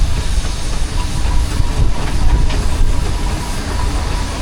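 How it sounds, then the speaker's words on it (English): A single-cylinder Wallace & Stevens steam traction engine rumbles past at a steam rally arena, a loud continuous low chugging with hiss and mechanical clatter. "And following him round is another Wallace & Stevens, but in this case it's a traction engine."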